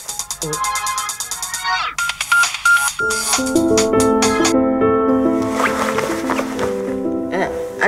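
A telephone rings with an electronic melodic ringtone of repeated tones that grows fuller partway through, loud and close, while people talk briefly over the start.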